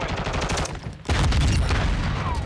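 Gunfire from akimbo Basilisk revolvers in Modern Warfare 2: after a short lull, dense rapid shots rattle continuously, loud and close, with overlapping reports.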